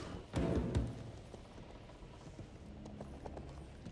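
A mount's hooves clip-clop in the online role-playing game RIFT, opening with a loud burst of thudding steps, then continuing as lighter, rhythmic footfalls with faint mechanical game sounds.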